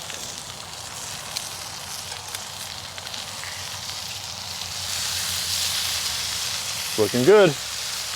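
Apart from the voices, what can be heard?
Canadian bacon sizzling on Kamado Joe grill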